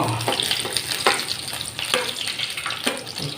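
Steady crackling sizzle of chicken frying and burning in hot oil, with occasional louder pops and stirring scrapes, close by.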